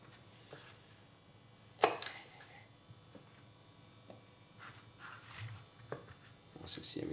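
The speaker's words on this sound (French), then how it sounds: "Donc on vient parer la petite extrémité" A knife trims the end of a small courgette being prepared for courgette-flower fritters, with one sharp cutting snap near the middle and a few softer taps, all close and fairly quiet under low background talk.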